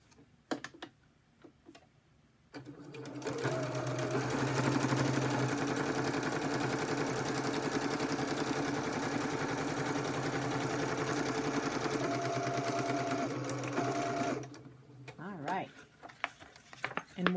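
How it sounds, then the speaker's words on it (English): A sewing machine stitches the center line of a folio page in one steady, continuous run of about eleven seconds, close and fairly loud, with brief handling clicks before and after. "So I flip it upside down and I sew from the bottom up again."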